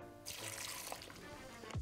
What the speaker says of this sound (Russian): Чтобы легче было набивать, добавлю воды.